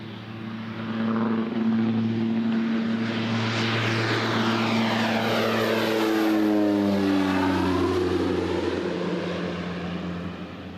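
A WWII Hawker Tempest piston fighter passes by with a loud, droning propeller engine that builds, holds steady for several seconds and then fades, its pitch sliding downward as it goes.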